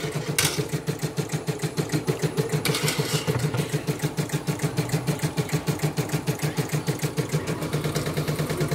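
A portable computerized embroidery machine runs steadily with a fast, even mechanical chatter of needle strokes, close and continuous throughout, with no talk.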